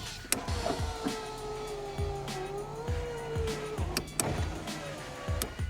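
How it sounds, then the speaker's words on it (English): Electric power window motors run in a 1995 Pontiac Sunfire with a custom upgrade, a whirring motor tone rising and falling as windows travel, with clicks and thumps at the stops. "the windows are much more fluid and they just work much better than those add-on crank style window motors"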